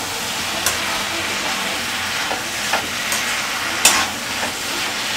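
Apollo fish frying in a pan on high flame, a steady loud sizzle with occasional soft scrapes and clinks of a spoon stirring through it.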